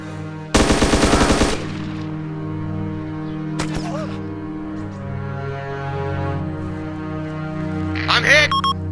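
Machine gun fire in the military shooter ArmA 2: a loud, rapid burst of automatic shots lasting about a second, then quieter distant shots and a low steady hum under radio-style voices.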